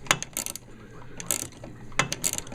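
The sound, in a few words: ratcheting box wrench loosening a nut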